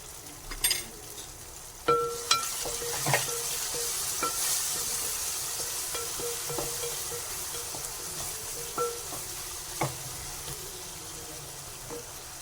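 Tomatoes frying in a pan for fish curry, a soft steady sizzle with scattered clinks and scrapes of a spoon on the pan, close by.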